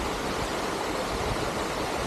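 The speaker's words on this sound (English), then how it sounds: "It's actually a waterfall with a vast natural pool." A waterfall pouring into a vast natural pool near a village, a dense, steady rushing wash of falling water close by, with no voices.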